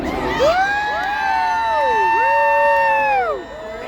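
A crowd cheers, whoops and screams at a knight tournament in armor, with a sustained mix of high excited voices, loud and continuous, before easing off at the end.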